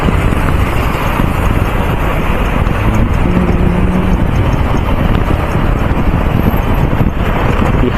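Night traffic jam in Hitech City, Hyderabad: a constant dense roar of engines and road noise, heavily buffeted by wind, loud and unbroken throughout.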